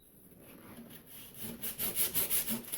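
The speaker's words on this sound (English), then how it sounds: "I'll sand this joint off flush with the keel" Rhythmic back-and-forth rasping as a wooden joint is hand-sanded flush with the keel of a model RC gaff pilot cutter, starting quietly and then growing into loud, regular strokes.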